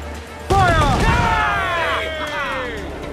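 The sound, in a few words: pirate ship cannons firing a broadside in Assassin's Creed 4 video game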